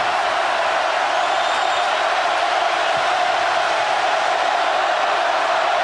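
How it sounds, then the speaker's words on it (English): Crowd roar at a college football game between Auburn and Florida in 2007, a dense, steady wash of cheering noise that stays loud and unbroken throughout. "The crowd's really been into it in the second half"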